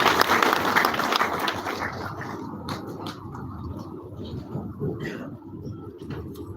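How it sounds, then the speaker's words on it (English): Applause from a gathered audience as a pastor comes up to the podium, strong at first and then thinning into scattered claps amid room noise and murmuring. "Please a round of applause for him as he comes up."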